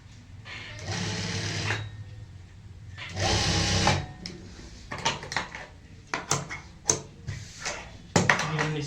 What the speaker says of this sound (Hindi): तो फिर से उसी पॉइंट पे एक साइड से ही सिलाई को यहाँ पे पूरा कर लेंगे।